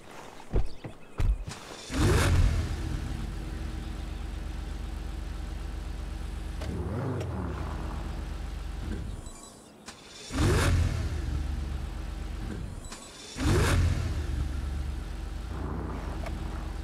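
A Lamborghini Sian in GTA 5 revs hard in several loud bursts, each rising and falling, with a steady engine drone between them and a short quieter dip near the middle.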